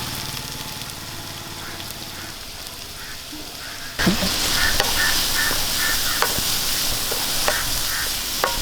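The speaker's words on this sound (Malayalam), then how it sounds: "എണ്ണ ചൂടായിട്ടുണ്ട് നമുക്ക് അതിലേക്ക് രണ്ട് സവോള അരിഞ്ഞ ഇട്ട് കൊടുക്കാം" Sliced onions tipped into hot coconut oil for a Kerala chicken roast: a quiet steady hiss jumps to a loud, dense sizzle as they land, followed by scattered scraping and stirring clicks.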